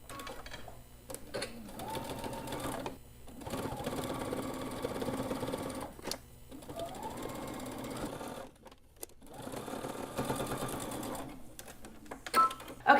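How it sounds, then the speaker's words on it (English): A sewing machine runs stitching along a folded fabric edge, a continuous mechanical whir in several long runs broken by brief pauses, fairly quiet with some faint background noise. "you're going to sew along the very edge. Okay, so I'm just going to do this with the machine"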